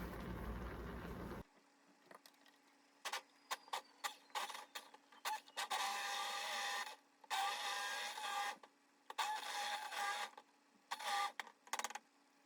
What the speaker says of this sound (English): I'm gonna emulsion blend this to get all of the chunks out.